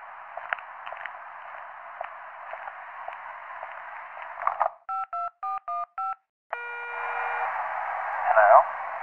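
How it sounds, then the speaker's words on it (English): Phone keypad dialing tones in the 911 Operator video game, five short evenly spaced beeps followed by a longer tone over a hissing phone line, with talk before them. "If you can't talk, please press any digit on your phone"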